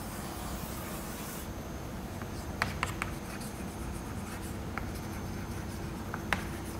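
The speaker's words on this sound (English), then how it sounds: "So let me draw a solid for you." Chalk or marker drawing a solid on a board during a lecture, a faint continuous scratching with a few sharp taps and clicks over steady room hum, with no one speaking.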